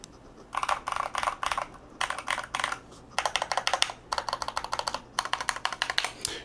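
Typing on a GMMK Pro keyboard with tactile hybrid switches in a heavy full-aluminum chassis: bursts of quick, crisp clacking keystrokes close by, pausing between runs, with no talking.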